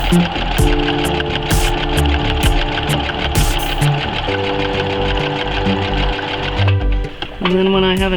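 A sewing machine runs steadily, stitching a patchwork fabric collage appliqué, a loud continuous mechanical hum with needle clatter that pauses briefly near the end before starting again.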